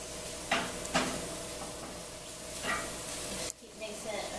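Food being mixed in a hot pan: a faint, steady sizzle with a few soft scraping strokes from stirring scattered through it.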